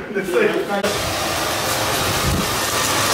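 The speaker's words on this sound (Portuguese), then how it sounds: "Secador de cabelo." A hair dryer blows with a loud, steady whooshing roar after a short rustle and click at the start.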